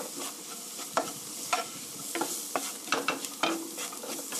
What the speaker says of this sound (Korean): 소스가 걸쭉하게 하기 위해서 밀가루로 이렇게 같이 볶아주는 거예요.